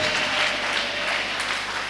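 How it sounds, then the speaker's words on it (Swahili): A church congregation at a Sunday service claps together in a dense, steady burst of applause, loud and close throughout the brief moment. "Ongeza na makofi na vigelegele kwa ajili ya Bwana."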